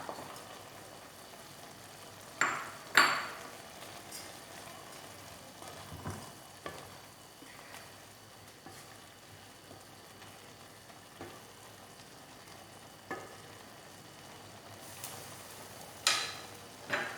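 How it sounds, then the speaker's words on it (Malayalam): Roasted oats heat in a pan for vegetable upma, giving a faint, low sizzle with occasional sharp scrapes and clicks of stirring, close but quiet throughout. "ഇതിലേക്ക് നമുക്ക് ഓട്സ് ചേർക്കാം. വറുത്ത് വെച്ച ഓട്സാണ്. ഒന്ന് ചൂടാക്കണം."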